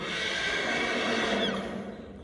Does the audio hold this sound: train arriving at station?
no